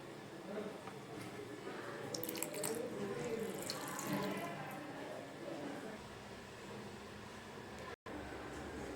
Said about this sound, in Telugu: ఇందులో కొన్ని ఐస్ వాటర్ వేయాలి.